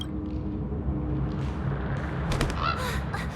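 A bird in Honkai: Star Rail gives a few caw-like calls near the end, layered over a steady low game ambience.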